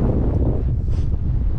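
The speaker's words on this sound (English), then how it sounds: "It's quite windy today" Strong wind buffets the microphone while riding a bike along bike roads on Texel Island, a loud, continuous low rumble with rustling, no talking.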